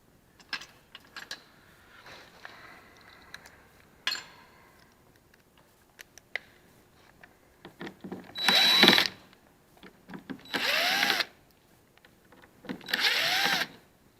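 A power tool backs out the trim screws on a BMW rear door, giving three short, loud whirring bursts near the end, after a stretch of quiet clicks and handling noises.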